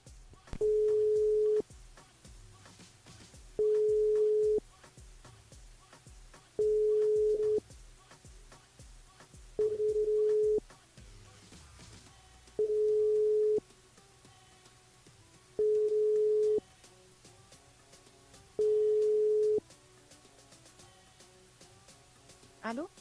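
A French telephone ringback tone sounds while a live radio show places a call to a listener's mobile: seven evenly spaced long beeps, clear and fairly loud, with quiet background noise and faint broadcast bleed between them.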